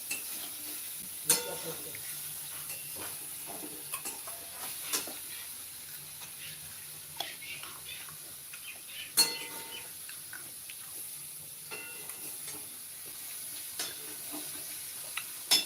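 A home cook stirring and frying a dish of mango in a pan, with steady low sizzling broken by scattered utensil scrapes and clicks throughout, no voices.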